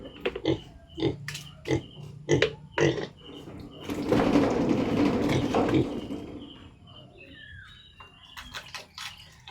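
A pig grunts in a quick series of short, close snorts, then gives a longer noisy burst of rooting and snuffling before trailing off into a few scattered grunts.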